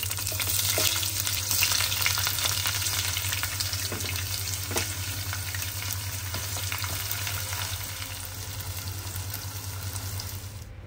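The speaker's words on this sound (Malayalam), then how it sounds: "ഒരു പാൻ എടുത്ത് വെച്ചിരിക്കണ്. പിന്നെ കുറച്ച് വെളിച്ചെണ്ണ ഒഴിച്ചു കൊടുക്കുന്നുണ്ട്." Cardamom, cumin seeds and a small piece of cinnamon fry in coconut oil in a pan, crackling and sizzling steadily up close under a constant low hum, with a few sharper pops and no one speaking.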